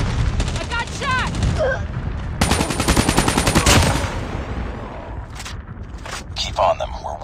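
Call of Duty Mobile gunfire in Nuketown Domination: two sharp bursts of rapid machine-gun fire, close and loud, separated by a short gap, with a voice and game sounds mixed in around them.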